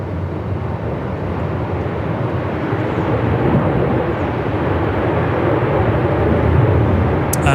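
A Sri Lankan Airlines heavy jet approaches Melbourne Airport in gale-force wind, its broad engine roar steady and loud throughout, blended with gusty wind rumble.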